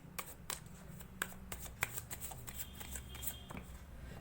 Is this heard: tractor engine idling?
no